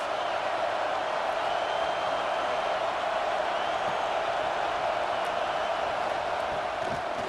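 In EA Sports College Football 26, a video game Ohio State vs Washington matchup, a stadium crowd roars as a dense, constant wash of noise at steady loudness, without clear peaks, throughout.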